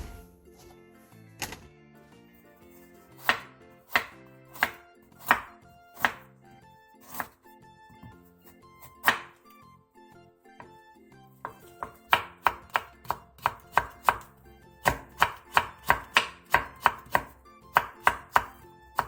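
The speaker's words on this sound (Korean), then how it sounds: "5cm 정도 길이로 통썰기 한 뒤 얇게 채 썰어주세요" A knife cuts burdock root into thin julienne strips on a board, first as spaced single chops, then as fast, steady rhythmic runs of sharp taps, close and clear over faint background music.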